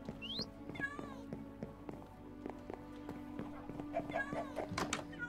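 Minecraft cat meows in the game over looping background music, with several short mewing chirps among clip-clop and tapping game effects in a busy, continuous mix.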